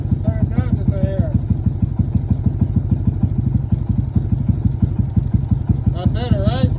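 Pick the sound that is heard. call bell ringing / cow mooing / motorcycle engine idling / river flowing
motorcycle engine idling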